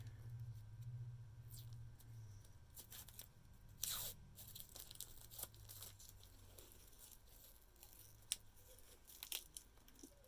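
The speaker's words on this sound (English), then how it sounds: "I'm going to take some washi tape here" Washi tape being pulled off and torn up close, with faint, quiet ripping and crinkling in several short bursts and a few sharp tearing snaps over low background hum.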